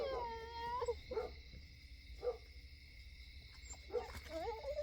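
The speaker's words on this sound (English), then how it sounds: "I don't know what them two are barking at here." Two dogs bark and yelp outdoors in the evening, a few spaced howling barks over a constant buzzing drone, moderately distant.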